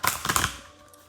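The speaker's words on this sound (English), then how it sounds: "So let me give a couple of shuffles" A quick, brief riffle of tarot card decks being shuffled, a burst of crisp papery flutters that dies away within about half a second.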